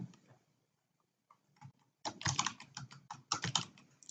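Computer mouse clicks and clatter at a desk while clicking a login button in a web application, a few faint ticks, then a dense run of sharp, close clicking and tapping with no talk.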